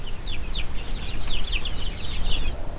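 Two-month-old chickens peep and cluck in a quick, busy chorus of high chirps, close by, over a low background rumble.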